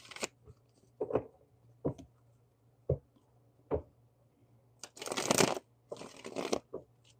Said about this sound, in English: Let me just shuffle these real quick